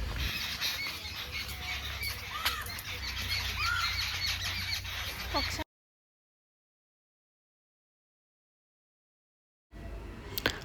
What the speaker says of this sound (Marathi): इतका छान पक्ष्यांचा आवाज येतोय ना इथे